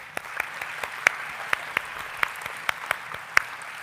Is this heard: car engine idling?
no